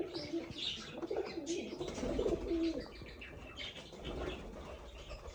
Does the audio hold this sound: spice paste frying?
no